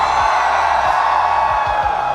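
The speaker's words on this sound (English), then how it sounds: "So I want you guys to cheer and I want it to be loud." A large crowd in Quill City Mall, Malaysia, at an esports mobile challenge finals screams and cheers loudly and continuously, a sustained roar of many voices filling the space.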